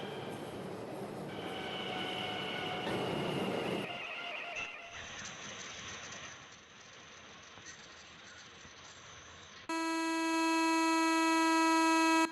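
Train running at speed in a high-graphics railway simulator game, a continuous rumble of wheels on track that drops away midway, then a loud sustained horn-like tone near the end.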